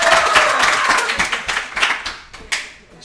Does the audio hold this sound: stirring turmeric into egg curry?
no